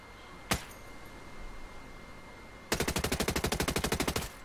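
Suppressed 805 BREN rifle in the Ghost Recon Breakpoint video game fires one sharp shot, then after a pause unleashes a rapid full-auto burst of about fifteen evenly spaced muffled cracks, loud and close with no talking.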